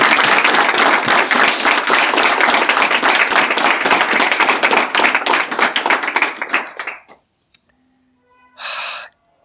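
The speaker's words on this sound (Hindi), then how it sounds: "ताली लगाओ इसके लिए आप।" Audience applause from people seated at a spiritual talk, dense and loud for about seven seconds before breaking off abruptly, followed by a short silence and a brief burst of noise.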